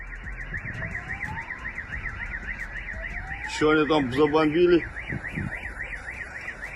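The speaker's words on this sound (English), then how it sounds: "setting all the car alarms off." A car alarm whoops steadily and continuously after a missile strike in Russia, joined midway by a louder, stepped electronic siren pattern for about a second before the wailing alarm carries on alone.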